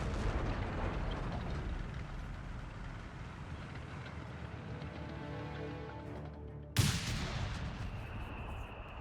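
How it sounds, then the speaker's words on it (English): Mortar fire in the Company of Heroes 3 battle game: a rumbling explosion slowly fades, then a sharp, sudden blast near the end is followed by a lingering low rumble. "Mortar fire here."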